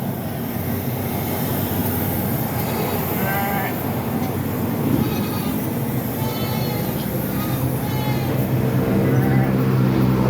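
Goats bleating at a livestock market, several short wavering bleats rising from a loud, busy crowd-and-machinery background, some near and some farther off.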